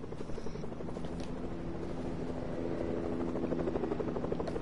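Helicopter in an online shooter video game, a steady rotor thrum and engine whine holding loud and continuous throughout with no break.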